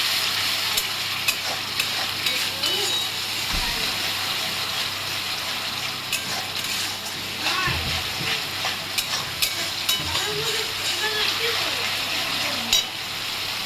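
Sour yogurt thinned with water is stirred into a hot frying pan for a fish curry, producing a loud steady sizzle with repeated spoon scrapes and occasional bubbling, no speech.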